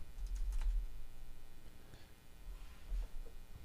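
Computer keyboard typing, a quick run of close keystrokes clattering steadily for a few seconds with no talk over it.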